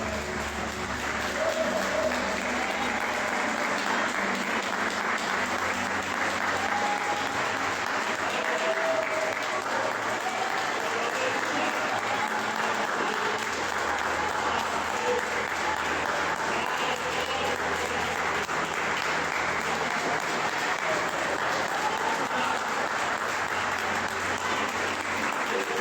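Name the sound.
church congregation applauding the Lord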